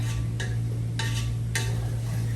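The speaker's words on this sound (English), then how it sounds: "So you want to continue to stir after you've put the garlic in" Garlic stirred into simmering pasta sauce in a pan, a low steady sizzle under three or four brief scraping stirs of a spoon against the pot.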